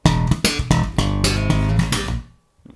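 Slap bass riff at full speed, with quick percussive slaps and pops in a tight funky rhythm, loud and close, ending with a short ringing decay and a faint tap.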